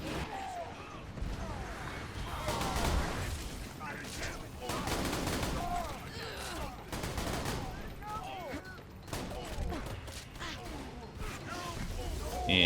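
Sustained gunfire and grenade blasts in Borderlands 2, rapid shots and heavier booms in dense waves for several seconds, mixed with game voices and effects.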